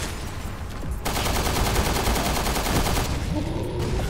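Enemy gunfire in the video game Resident Evil: Revelations erupts after a second of background noise as a rapid, dense burst of shots lasting about two seconds, loud and close, then drops back to ambient game sound.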